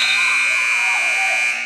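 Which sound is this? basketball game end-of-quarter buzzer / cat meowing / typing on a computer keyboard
basketball game end-of-quarter buzzer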